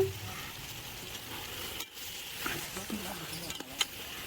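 Biryani masala is stirred into sizzling chicken gravy in a pan, giving a continuous frying hiss with scraping strokes of a spoon and a few sharper clinks, while a voice talks faintly underneath.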